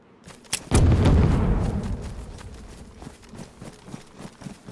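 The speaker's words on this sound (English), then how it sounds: "Now come over here and go behind it and detonate it." Explosive charge detonated against a base wall in DayZ, a single loud, close blast with a deep boom that rumbles and fades over about two seconds, followed by faint scattered clicks.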